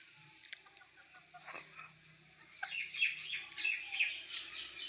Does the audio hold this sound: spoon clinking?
no